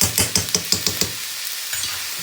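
A spatula stirs egg fried rice with soy and chili sauce in a hot pan, making quick, rhythmic scraping strokes close up, then a softer sizzle as the stirring stops.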